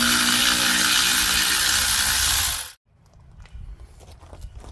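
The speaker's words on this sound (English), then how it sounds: "we're just going to undo these nuts now" A power tool loosens the rear axle nuts on a 2005–2015 Toyota Hilux Vigo, a loud, steady mechanical whirr lasting almost three seconds before cutting off abruptly, leaving faint clinks and shop noise.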